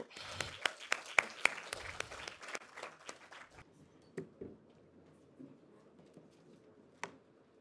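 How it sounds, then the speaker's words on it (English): An audience applauds a closing keynote speaker, the deputy governor of the National Bank of Rwanda, at a conference, with crisp scattered claps fading out after a few seconds, leaving quiet room noise and an occasional stray clap. "A one round of applause for her."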